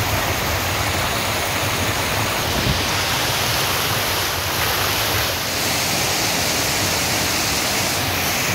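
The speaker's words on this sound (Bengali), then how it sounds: "অসাধারণ জলের বেগ।" Water rushes over the gates at Tara Dam waterfall in Purulia, a loud, dense, unbroken roar heard close up for the whole stretch with no voices.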